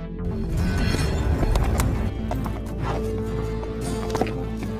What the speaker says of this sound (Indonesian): dan menunggangi seekor kuda